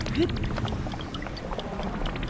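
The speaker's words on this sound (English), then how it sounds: "I don't understand why this water is so slow." Water flows slowly inside a shrine in the video game Zelda Tears of the Kingdom, a continuous soft rushing and pouring wash that stays level throughout, with faint scattered splashy ticks.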